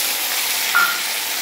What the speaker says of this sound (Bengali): পনির কটা ভেজে ফেলি।